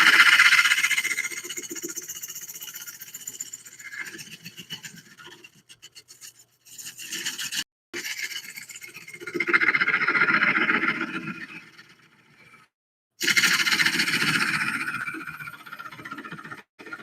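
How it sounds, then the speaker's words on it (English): A carbide tool cuts into a walnut bowl spinning on a wood lathe, giving a loud rasping, squealing scrape that comes in bursts with brief pauses and dropouts, close and without talk. "now we're doing walnut. And yes, this is a carbide in my hand"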